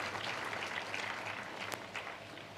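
A church congregation claps their hands together during a Christian service, a dense, steady patter of many hands filling the room at fairly close range, with no break.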